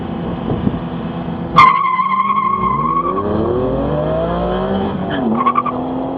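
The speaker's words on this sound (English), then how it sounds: "Corvette Z06 versus Porsche GT3. GT3, of course, launching better" Corvette Z06 and Porsche GT3 launch side by side off an autocross start line in Street R class, a sharp burst of tire squeal giving way to steady, loud engine roar as both cars accelerate, with another brief chirp near the end.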